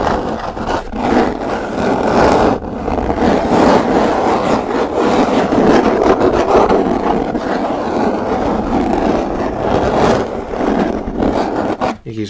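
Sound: aggressive scratching on a wooden box, ASMR

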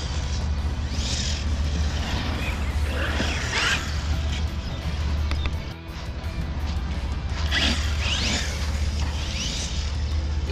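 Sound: metallic sound of RC car differentials

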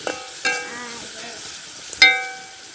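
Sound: onions frying and sizzling in pan

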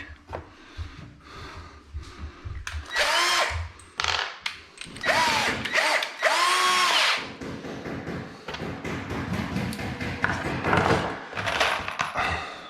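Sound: power drill driving screws

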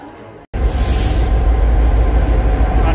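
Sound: train generator running

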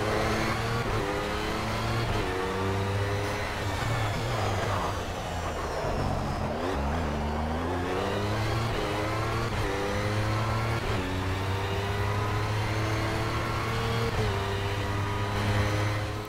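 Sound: race cars at Le Mans in Project CARS video game

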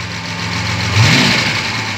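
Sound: V12 Jaguar E-type engine revving under throttle

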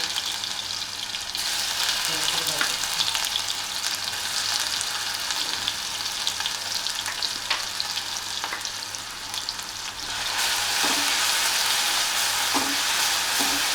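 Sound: green chili and garlic paste frying in hot oil

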